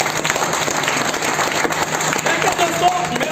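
Audience applause in a lecture hall during a business talk, a steady mass of clapping with a few voices mixed in.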